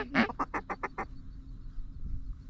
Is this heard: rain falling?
no